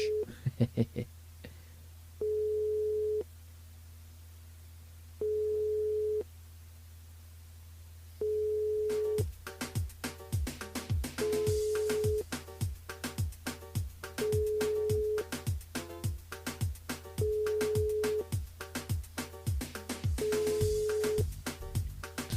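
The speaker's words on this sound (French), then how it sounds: "C'est parti, on appelle Cindy du côté de Saint-Paul." Telephone line tones on a call placed to a radio listener in Saint-Paul: repeated steady ringback beeps, then rapid dialing or chirping tones with ringing pulses underneath, no talking.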